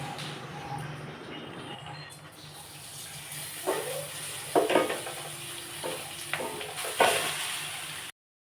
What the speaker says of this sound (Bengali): এখন আমি রাইসগুলো দিয়ে দেবো এর মধ্যে।